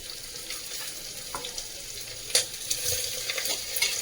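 Chopped garlic fries in a pan until brown for a dal fry, producing a soft, steady sizzle with a few spatula scrapes and clicks and a brief watery burst, quiet and close with no talk.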